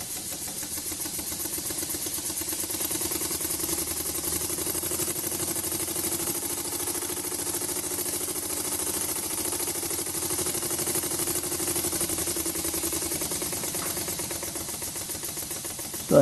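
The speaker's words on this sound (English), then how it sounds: "it is a rotary valve engine, and it's exhausting out of the end of the" A small rotary valve engine runs continuously at a steady idle with a fast buzzing rattle, loud and close, and shows no change in pace until a brief knock at the very end.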